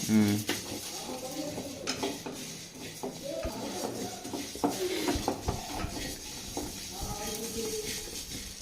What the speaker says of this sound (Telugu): కొంచెం జీలకర్ర వేసుకొని వేయించుకుందాం